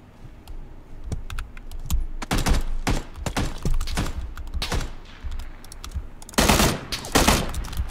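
Rapid single-fire shots ring out in PUBG (Battlegrounds), a loud, irregular series of sharp cracks spread across several seconds, with a dense cluster near the end and quiet gaps between bursts.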